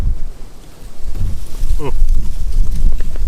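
Strong gusty wind buffets the microphone outdoors on a hike, a loud low rumble that swells and surges throughout, with a voice speaking briefly under it.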